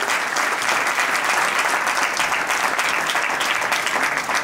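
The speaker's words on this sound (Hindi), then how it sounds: "जोरदार ताली हो जाए गाइस" Sustained, dense applause from an audience at a company team-building event, steady and loud throughout with no pauses.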